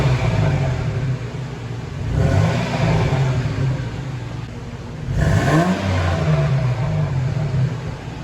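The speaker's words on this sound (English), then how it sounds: "All the putt-putt is gone. This truck runs beautifully now." 1998 Toyota Tacoma truck engine running smoothly, a steady close rumble with two brief swells in revs, and faint talk in the background.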